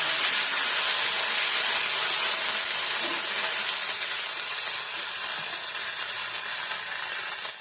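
Whole cumin seeds and a ground paste of green chili, ginger and cumin hit hot oil in a pan, giving a loud, steady, broad sizzle that hisses on without pause, no voices over it.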